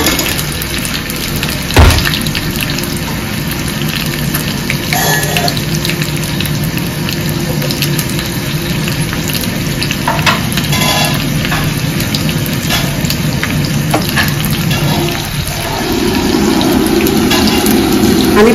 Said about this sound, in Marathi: आणि पाणी घालायचं.